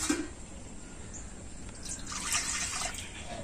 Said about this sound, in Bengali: তো কড়াতে আমি দিয়ে দেব জল।